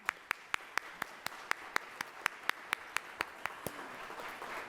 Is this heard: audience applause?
yes